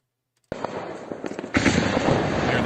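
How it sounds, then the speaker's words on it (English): Gunfire in a firefight south of Lysychansk in Ukraine: a sharp onset of crackling distant shots, then a heavier blast of sustained rumbling fire from about halfway through. "Firing in the distance, this Ukrainian soldier fires his RPG."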